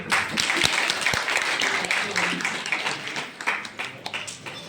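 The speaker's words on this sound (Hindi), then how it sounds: "चलिए सर के लिए एक बार फिर से जोरदार ताली।" An audience at a gathering gives a burst of loud applause, dense crowd clapping that rises early and then thins gradually toward the end, with no voices heard over it.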